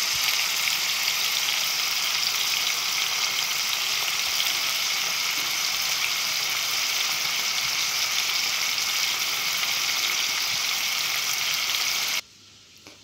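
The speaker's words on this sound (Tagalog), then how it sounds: "Tapos isunod natin yung kamatis. Ayan. Gisa muna natin hanggang sa maluto." Tomatoes sautéing with garlic and onion for an Ilocano pakbet give a loud, steady close-up sizzle that holds evenly for about twelve seconds, then cuts off abruptly to near silence.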